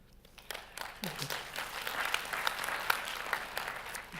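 An audience at a scientific conference opening session applauds an award winner, with quiet, somewhat distant clapping that builds after a soft start and holds steady, with some voices mixed in.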